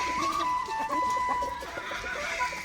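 Chickens on a poultry farm cluck in a busy overlapping chorus, close and fairly loud, with a steady background hum underneath.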